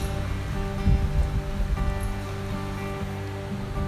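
Water from freshly boiled chow mein noodles is poured off into a pot, a loud close rushing splash that surges near the start and then keeps flowing steadily. No one speaks.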